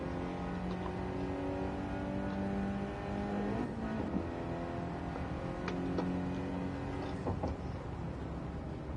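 A race car engine in the Gran Turismo 7 video game, played in a live session, hums and revs in steady tones that rise and shift, with brief clicks and gear changes, alone and at moderate level.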